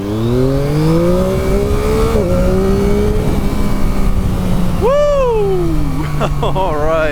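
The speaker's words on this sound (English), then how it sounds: "let's see if we can do a quick 0 to 60 run here whilst we've got time" A 2023 Yamaha MT-09 SP motorcycle launches in a 0 to 60 acceleration run, its engine loud and close, rising in pitch through the gears with brief dips at each shift, while a rider's voice is faintly present.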